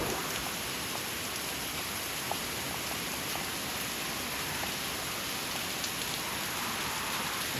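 Heavy typhoon-season rain pours down steadily in the Philippines, a dense continuous hiss with occasional louder drops, unbroken for the whole stretch.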